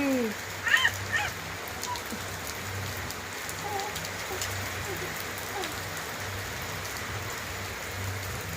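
Steady rain falls on surfaces outside a home, a dense even hiss throughout, with a brief voice and a faint bird or dog sound early on.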